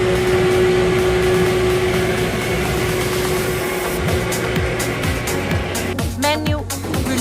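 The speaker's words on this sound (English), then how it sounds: "Our vacuum pump starts running. Split type water ring 2-stage vacuum pump." A split type water ring two-stage vacuum pump on a hydraulic lifting vacuum homogenous emulsifier runs with a steady, loud mechanical hum and drone, with a few brief rattling clicks near the end.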